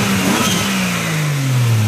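A Lexus GS300 fitted with a turbocharged 2JZ-GTE engine revs steadily and loudly up close, the engine note climbing and holding with no talk over it.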